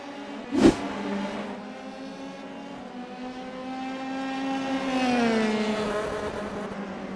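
A Dallara F3 race car engine at the Nürburgring Grand Prix circuit screams as it accelerates through the gears, a steady high-pitched whine that shifts once and climbs again, heard alone without commentary.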